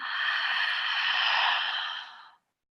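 A single deep breath drawn in during a guided gamma breathing session, breathy and close, holding steady for about two seconds before stopping abruptly into silence.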